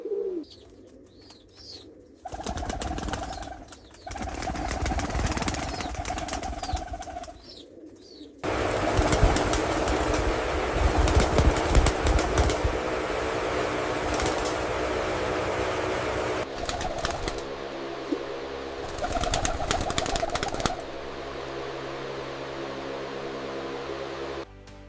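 Young pigeon chicks perch in a large breeding farm, cooing in low repeated bursts and beating their wings in short flurries, with bouts of rustling movement and a steady background hum.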